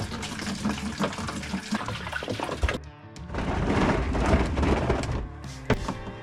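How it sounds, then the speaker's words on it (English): Distilled water pours steadily into a laser chiller tank with a full splashing gush, a brief pause, then a heavier stream that resumes and continues close by. "I'm going to use distilled water and put at least a couple gallons in here"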